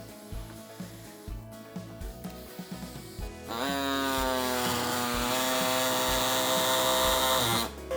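An air-powered saw driven by a small compressor cuts into a metal test piece. A few brief starts give way to a sustained, loud, high whine that wavers in pitch for about four seconds before stopping.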